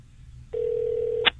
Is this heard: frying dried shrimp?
no